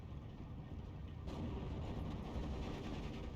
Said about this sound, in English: Panzer 4 gets a nice shot on the T-34